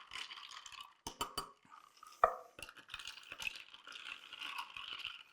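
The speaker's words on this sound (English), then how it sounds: "So I'm going to actually grab a spoon here. We're going to stir it." A spoon clinks and rattles against a glass while stirring a Swedish Devil cocktail, sharp close taps and scraping strokes in an irregular rhythm.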